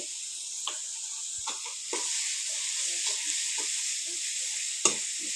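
Panch phoron spice mix sizzling and crackling in hot oil in a pan for a naga and green chili pickle, a steady close hiss with sharp pops and stirring clicks throughout.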